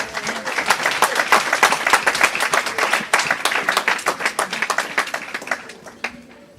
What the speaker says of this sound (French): Give a clap to the Lord.